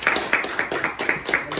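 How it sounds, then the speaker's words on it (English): Brief audience applause at the end of a conference talk on stablecoins, loud and close, with claps landing in a quick, roughly regular pulse. "All right, let's give a round of applause."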